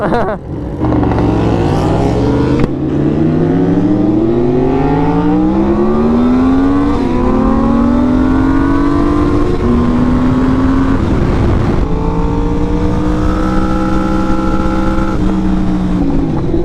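A VFR 750F motorcycle engine roars close and loud, its pitch winding up and dropping back in long sweeps as it revs and engine-brakes for corners, with no talking.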